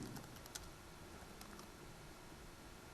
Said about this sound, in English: Type the password correctly.